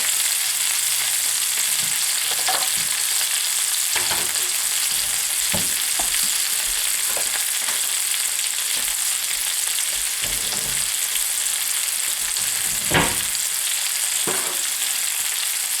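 Chicken pieces browning in a single pan, braising for a dish with vegetables and mushrooms, fry with a steady loud broadband sizzle throughout, broken by occasional scrapes and clinks of stirring.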